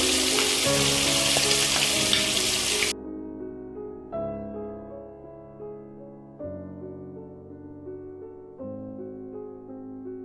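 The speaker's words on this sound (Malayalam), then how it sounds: "ഇപ്പം നമ്മൾ 1 hour മുമ്പ് പുരട്ടി വെച്ച ചിക്കൻ ഓരോന്നായിട്ട് ഫ്രൈ ചെയ്തെടുക്കാം" Marinated chicken pieces frying in sunflower oil give a loud, dense sizzle for about three seconds, then it cuts off abruptly and music continues alone.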